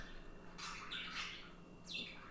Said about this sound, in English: this bird just flew up to the window and just hovered, looking in